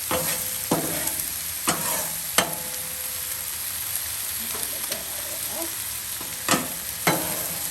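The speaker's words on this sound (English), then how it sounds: "I'm going to check my onions here. Ooh, there they go. Now they're caramelized." Onions sizzle steadily on a hot Blackstone griddle as they caramelize for Philly cheesesteaks, with several sharp scraping and stirring strokes from a spatula punctuating the continuous frying hiss.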